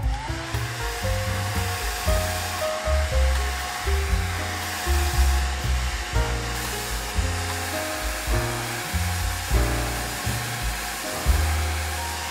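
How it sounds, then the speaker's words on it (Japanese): A hand-held hair dryer blows steadily to dry watercolor pencil paint on a card. The loud, continuous whirring drone runs the whole time with slight wavering in pitch, close up and with no voices. "ドライヤーで乾かします。"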